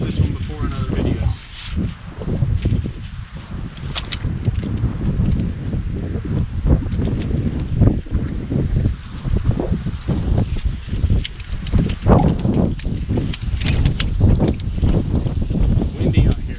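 Strong wind at a forest hammock campsite in a state forest, loud continuous gusting and buffeting against the microphone with rustling, steady for the whole stretch with only small dips.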